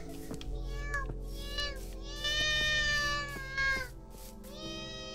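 Several clear meows from a nearby cat, rising and falling in pitch, with a drawn-out louder call in the middle and another toward the end, over a steady low hum and a brief voice in the background.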